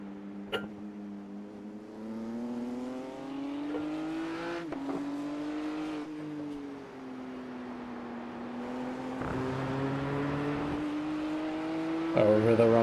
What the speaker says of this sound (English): Over the rumble strips.